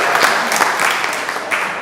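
Audience applause at an annual meeting, a dense, steady wash of clapping lasting the whole moment, fairly loud and close with no clear talk over it.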